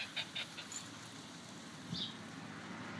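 A small dog whimpers and yips in short high bursts near the start, then quieter breathing, with a brief squeak near the end.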